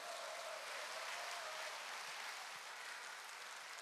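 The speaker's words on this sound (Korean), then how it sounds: "이럴 때 박수 쳐야 되는 거 아닙니까?" Concert audience clapping steadily at an outdoor music event, a continuous fairly soft wash of applause lasting several seconds without any speech.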